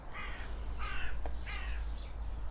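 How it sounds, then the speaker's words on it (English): Crows cawing three times, their harsh calls fairly near over a low steady rumble. "Oh, listen to those birds."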